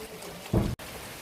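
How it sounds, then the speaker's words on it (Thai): Heavy rain and large-flaked snow falling together in strong wind, a steady hiss of precipitation with a short loud gusty burst in the middle before a brief dropout. "ทั้งหิมะทั้งฝนตกลงมาพร้อมกันแล้วก็ เม็ดใหญ่มาก"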